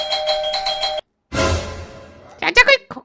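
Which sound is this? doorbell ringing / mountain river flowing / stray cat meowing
doorbell ringing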